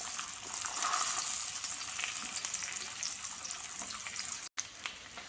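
Aubergines fry in a pan for an aubergine tart, giving a close, steady sizzle with faint crackles throughout.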